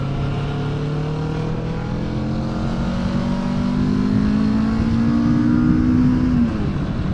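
Kawasaki Vulcan S motorcycle engine revving up steadily as the bike accelerates, a loud, close, rising drone that climbs in pitch over several seconds and then drops off near the end, with no talking.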